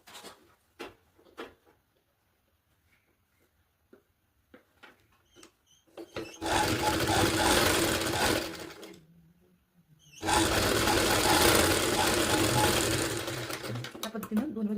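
Sewing machine stitching a small girl's blouse, running in two long loud bursts of steady whirring after a quiet stretch of faint clicks and handling of fabric.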